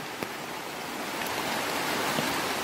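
Río La Yagüiza running high and flooded, a continuous loud broadband rush of turbulent water with no voices, steady throughout.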